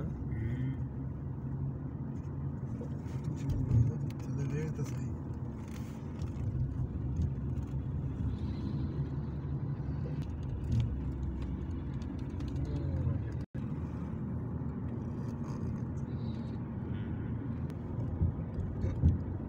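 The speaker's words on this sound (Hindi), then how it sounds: "गड्डी ऊंचाई ते जा रही है, ऊपर ऊपर जा रहे हैं अपन।" A car engine hums steadily while climbing a cold uphill road toward Taif, with constant low road and engine rumble throughout; people talk over it, and there is a brief dropout near the middle.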